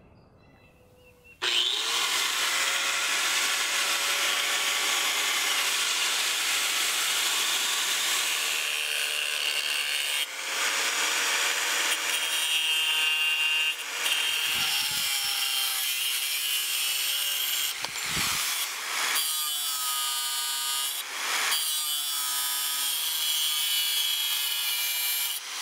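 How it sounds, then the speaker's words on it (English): Close, loud hand sawing through part of a knife handle, with long continuous rasping strokes that carry on steadily for over twenty seconds and break only briefly between strokes. "I'm going to cut off this section, and then I'm going to turn this around and clamp it here and cut off the rest."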